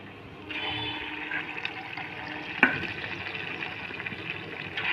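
Chira rosh bora, flattened rice fritters, fry in hot oil with a steady hiss and bubbling sizzle throughout and a single sharp clink partway, close and moderately quiet, with no talk.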